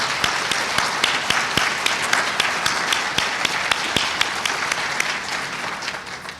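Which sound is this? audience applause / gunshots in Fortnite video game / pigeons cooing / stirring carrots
audience applause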